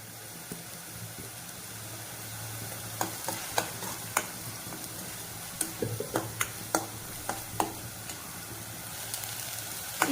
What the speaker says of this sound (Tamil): இது நல்லா பச்சை வாசனை போக நல்லா வதங்கணும் வெங்காயத்தோடு சேர்த்து